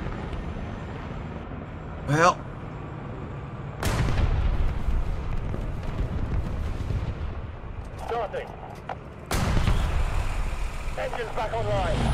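Booming gunfire and cannon blasts from armoured vehicles in the War Thunder video game, several heavy reports rolling over a constant low engine rumble, with a voice talking in between.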